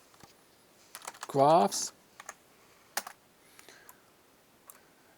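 Keys on a computer keyboard clatter in quick, close bursts as a folder name is typed, with scattered single clicks around them and a brief spoken word in the middle.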